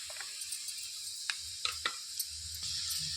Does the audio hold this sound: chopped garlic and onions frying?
yes